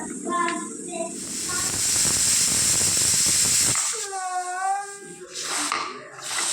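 A pressure cooker holding bagara rice lets off a loud, steady rush of hissing steam for several seconds, then a voice takes over as the hiss fades.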